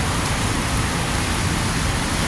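Heavy rainstorm pouring down on Westchester Avenue in the Bronx, New York City, a steady dense broadband hiss of rain on street surfaces that stays loud and unbroken throughout, with no voices.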